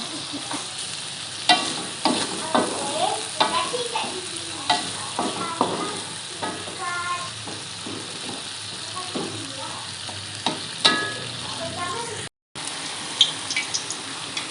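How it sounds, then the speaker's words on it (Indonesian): Beef for an Acehnese white-style beef dish is stirred as it fries in a pan, giving a continuous sizzle broken by repeated scraping strokes of the spoon, close and fairly loud, with a brief dropout near the end. "Tuangkan daging, terus kita aduk lagi. Aduk sampai merata ya."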